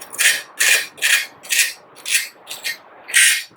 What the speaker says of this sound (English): they use the top of a can, they recycle, and you just scrape it off